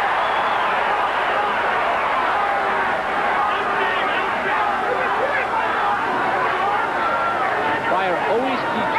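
A boxing crowd roars steadily as a fighter lands a punch, a dense, continuous wall of cheering and chatter filling the arena without letup.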